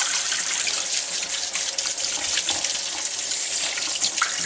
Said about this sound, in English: So I think we'll just give it one rinse.